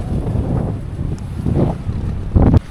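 Wind buffets a microphone on a free beach in Pangasinan, a steady low rumbling roar with a few stronger gusts near the end, no talking.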